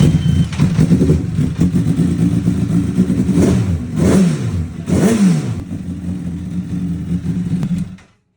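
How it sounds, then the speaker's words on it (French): A 2009 Honda CBR 1000 RR HRC motorcycle engine runs steadily, revving up a couple of times before settling, then cuts off abruptly at the end. "Et comme on peut voir, là, maintenant, la moto, elle tourne nickel"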